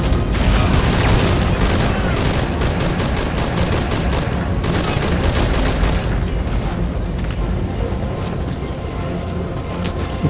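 Heavy continuous gunfire rattles through a Metal Gear Solid V: Ground Zeroes firefight, a dense loud fusillade with booming shots layered over a constant low rumble, tapering only slightly toward the end.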